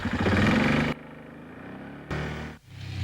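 An ATV engine runs as the rider heads out, a loud harmonic roar that drops abruptly to a quieter hum, then surges back up near the end.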